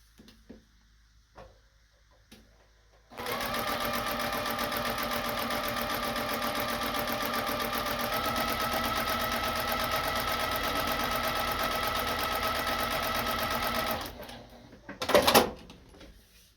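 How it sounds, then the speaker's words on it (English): A home sewing machine stitches quilting fabric for a Starry Night block, its steady motor whir running loud and continuous for about eleven seconds before stopping, followed by a brief clunk. "And take it to the sewing machine."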